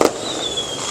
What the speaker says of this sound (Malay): Ada bunga api lah malam ni.